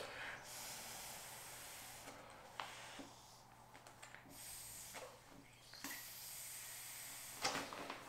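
Someone blows into a Marmot sleeping pad by mouth to inflate it, a series of faint breathy hissing puffs with short pauses between them, heard close and quiet.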